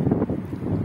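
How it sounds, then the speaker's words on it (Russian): Strong wind buffets the microphone in a low, steady roar with gusty surges, loud and close throughout, no voices. "Ветер сильный поднялся."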